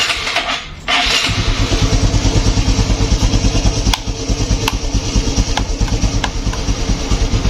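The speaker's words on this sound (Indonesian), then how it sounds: "Saya akan nyalakan mesin." A motorcycle engine cranks and catches after a brief stutter, then idles close by with a rapid, steady chugging pulse.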